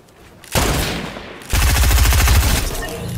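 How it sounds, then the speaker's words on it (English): Sniper rifle shots in Fortnite, two loud sharp cracks about a second apart, each followed by a sustained rumbling roar that fills the rest of the moment, with no talking. "Sick sniper shot, bro."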